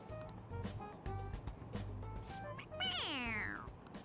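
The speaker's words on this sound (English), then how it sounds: "It meows when you press on its head." A stuffed toy cat in Persona 5 Royal gives a single clear, rising then falling meow near the end when pressed on its head, after soft game sounds and quiet talk.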